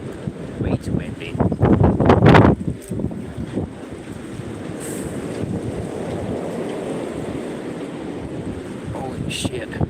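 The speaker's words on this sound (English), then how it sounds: "Man, it's too windy out there." Strong wind blows outdoors, with heavy gusts buffeting the microphone in loud rumbling bursts before easing into a steady rushing roar.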